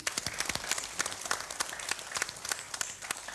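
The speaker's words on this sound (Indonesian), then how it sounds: "Kita berikan tepuk tangan." Applause at a government ceremony where a deputy regent hands over scholarship aid, scattered individual claps heard fairly faint and distant, sharp irregular slaps from a small group rather than a dense roar.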